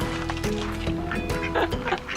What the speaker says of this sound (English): But we got 7 new ducks, everybody.